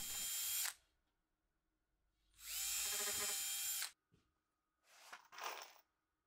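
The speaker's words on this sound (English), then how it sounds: "I'm going to drill some pilot holes because MDF is notorious for splitting" Power drill boring pilot holes in MDF board, heard as three separate bursts: two steady high-pitched whines of the drill running, then a shorter, rougher burst as the bit bites through the fibreboard.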